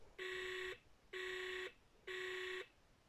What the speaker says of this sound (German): das war der Piepston von die Nummer ist falsch